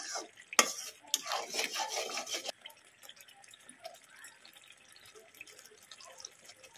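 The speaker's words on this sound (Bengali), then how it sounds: "ভালো করে আবারও কষিয়ে নেব মশলাগুলো।" Cumin and coriander powder for a Bengali fish curry get stirred and scraped in a pan, a busy rubbing burst up close that drops away to soft, scattered clicks and faint sizzling.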